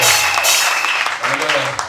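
Congregation applauding together in a church service, a steady dense wash of clapping held throughout at fairly close range, with a voice speaking over it.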